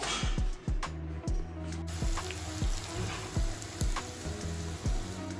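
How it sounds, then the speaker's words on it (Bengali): Dried chillies and onion fry in hot oil for mutton biryani with a continuous loud sizzle, punctuated by rhythmic scraping stirs of the pan. "এটা প্রথমে তেল দেওয়া হয়েছে তেলের পর শুকনো লঙ্কা পেঁয়াজ কাটি"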